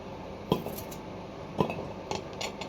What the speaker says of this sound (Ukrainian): спочатку нарізаю часник